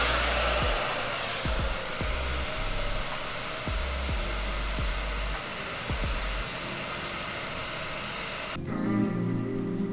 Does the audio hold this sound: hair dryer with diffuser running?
yes